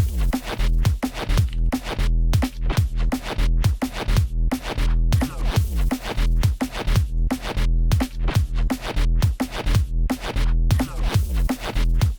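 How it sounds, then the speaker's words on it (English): Thick, buzzy electronic bass notes pulse in a steady rhythmic pattern, loud and up front, with short gaps between hits and no voices. "I turned all your basses into other basses. Now they sound like this."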